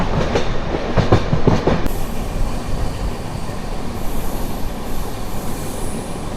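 The Sabari SF Express rolls into Palakkad Junction, its wheels clattering loudly at first with rhythmic clicks and a squeal, then settling into a steady rumbling roar close by.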